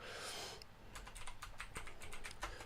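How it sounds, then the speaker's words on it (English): A new computer keyboard clatters under quick, irregular typing, the keystrokes soft and close in a quiet room after a brief burst of noise. "Hopefully my new keyboard isn't obnoxious."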